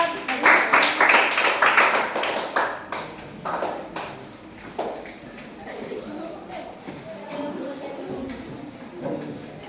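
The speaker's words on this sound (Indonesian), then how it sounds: "Oke, tepuk tangan untuk kelompok 4." Students in a junior high school classroom clap for a group, a burst of many hands that is loudest at first and thins out into scattered claps as voices start talking over it.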